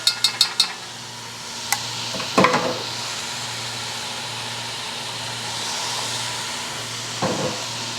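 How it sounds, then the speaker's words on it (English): Onions and peppers dumped into a hot pan of crumbled fresh hot Italian sausage: a few clicks and a clatter, then a steady close sizzle and hiss with occasional utensil scrapes. "Now I'm going to dump in the onions and peppers."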